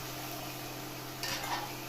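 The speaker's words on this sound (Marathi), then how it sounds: "आता थोडा आपण त्या कांद्याला मस्त परतून देऊया" Onion sautéing in a pan for poha gives a steady, soft frying hiss throughout, with a brief scrape of stirring near the end and no voices.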